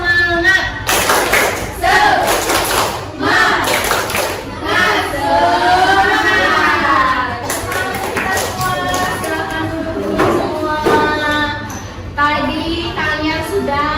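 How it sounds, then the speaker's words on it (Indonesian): Standing classroom of students doing a rhythmic spirit clap in an Indonesian school lesson, sharp hand-claps in quick patterned bursts mixed with voices chanting and talking loudly throughout. "Tepuk semangat."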